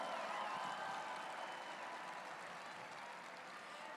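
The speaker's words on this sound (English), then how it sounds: "Give them a round of applause, all these local businesses who committed to solidarity today." A crowd at an anti-ICE protest rally applauds local businesses. The clapping is faint and distant, a steady wash that tapers off slightly over a few seconds.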